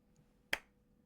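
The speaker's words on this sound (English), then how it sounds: "I'm going to do a clap so I can sync it up later" A single sharp hand clap for syncing recording rings out once in a quiet room, crisp and close, followed by near silence.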